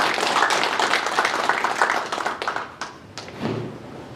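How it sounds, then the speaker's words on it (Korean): Crowd applause welcoming an organization's representative at the founding ceremony of a civic group's Daegu chapter: dense, steady clapping that thins out after a couple of seconds into a few scattered claps and thuds. "윤순갑 대표님의 각오에 큰 박수로 환영하도록 하겠습니다"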